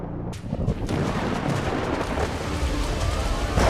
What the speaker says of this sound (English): A massive tropical thunderstorm is building in the skies above them